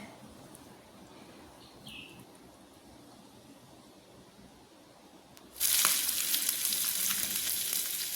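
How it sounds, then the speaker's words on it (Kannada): Fish slices dropped into hot oil in a frying pan erupt into a loud, sudden hiss after a quiet stretch with faint background chirps, then keep sizzling steadily. "ಮೀನೆಲ್ಲವನ್ನು ನಾನು ಹಾಕ್ಕೊಂಡಿದ್ದೇನೆ ಫ್ರೈ ಪ್ಯಾನಿಗೆ."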